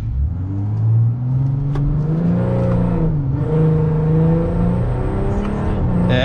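A Volkswagen Amarok V6 pickup with a stage 2 tune launches in second gear under manual control, its engine droning loud and close as revs climb steadily, dip briefly, then rise again in a strong, rising growl.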